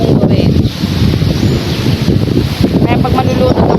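Gusty wind blowing hard against a microphone on a shaking tripod at a summer waterside outing, a loud rumbling buffet with faint water and rustling behind, while a voice speaks partly underneath.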